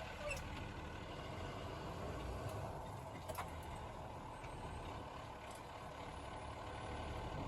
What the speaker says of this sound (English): drive up to 5 miles per hour with my hands off the wheel